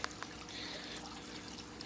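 Water trickling and splashing steadily into a sizable aquarium waterfall basin, a continuous close hiss with small splashy accents and no voices.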